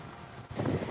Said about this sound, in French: violentes bourrasques de vent qui font trembler les panneaux de signalisation